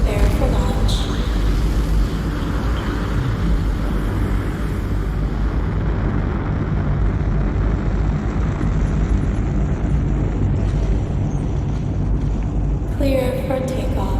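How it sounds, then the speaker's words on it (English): A starship's takeoff engines roar continuously in a steady, loud, broadband rumble that holds throughout, with a brief burst of added noise near the end. "Takeoff initiated."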